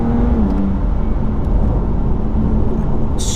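A BMW M2 Competition accelerates hard at full throttle, its steady engine roar and road noise heard from inside the car, a rising tone audible early on.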